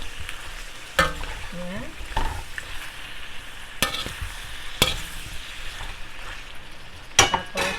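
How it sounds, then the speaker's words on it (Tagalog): Pinakbet vegetables sizzle and fry steadily in a pan while a utensil stirs them in several sharp scraping strokes, close up and alone. "so haluin ko na siya"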